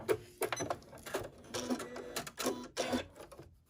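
Sewing machine stitching fabric heart-shaped zipper pouch pieces together in short repeated bursts of rapid needle clatter, close and fairly quiet, with brief pauses between runs and no talking.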